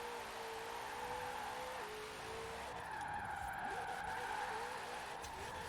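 Studebaker Golden Hawk Dream Roadster drifting in Forza Horizon 4, with a steady engine drone and a sustained, wavering tire skid that shifts pitch partway through, continuous and close throughout.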